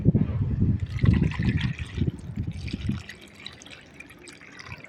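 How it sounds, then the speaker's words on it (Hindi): Water pours and splashes for about three seconds as a rooftop water bowl for birds is filled, then fades to soft dripping and trickling, close and fairly loud with no talk. "मैंने ऊपर छत पे पानी रखा हुआ है पक्षियों के लिए, तो इसको मैं यहाँ पे फिल करने आई हूँ"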